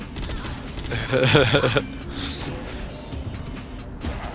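Rapid bursts of gunfire from the Judge Dredd vs. Death video game, a dense volley standing out in the middle amid continuous game noise, with a player talking over it.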